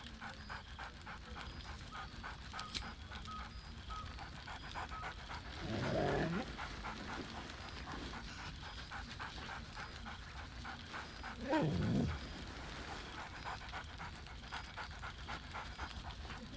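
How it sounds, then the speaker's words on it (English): Scratch the dog in Baldur's Gate 3 pants softly and steadily close by, with two brief louder huffs or barks around the middle and toward the end. "Scratch barks merrily in something like agreement."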